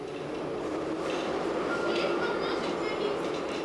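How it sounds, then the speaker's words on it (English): Subway trains rolling past an underground shelter in Kharkiv, a steady low rumble with faint rattling that holds for several seconds, heard from inside the enclosed space. "The ground shakes when the subway trains roll past."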